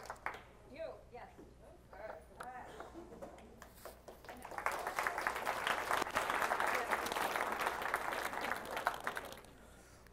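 Audience at a keynote cooking demonstration breaks into sustained applause about midway, preceded by scattered talk and laughter in the room.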